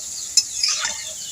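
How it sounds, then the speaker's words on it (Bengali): Thin potato chips frying in a pan over low heat while being gently turned, a steady close hiss of hot oil broken by a couple of short clinks from the spatula against the pan, no voices. "উল্টে পাল্টে আমি চিপসগুলো ভালো করে ভেজে নেব।"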